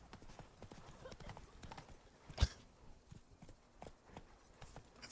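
Roach, the horse in Witcher 3, gallops with rapid rhythmic hoof clip-clops, one louder thud midway, faint background game ambience throughout.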